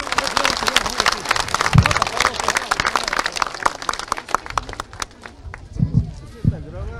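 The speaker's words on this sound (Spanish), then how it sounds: "¡Fuerte los aplausos!" An outdoor crowd at a Bolivian presidential event for a micro-irrigation system handover bursts into lively applause with whoops and scattered voices, the clapping loud and dense before thinning toward the end.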